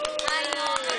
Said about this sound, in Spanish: Sí, un aplauso, bienvenida.